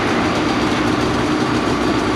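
Two snowmobiles with 850 engines and Bikeman stage 2 kits idling together, a dense, loud, continuous mechanical roar with no gaps, heard up close.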